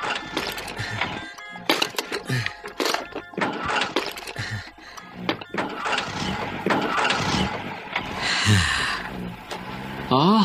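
An old bus engine cranks and starts, a loud, rough, sputtering roar with irregular bursts that settles into a heavy, rattling run.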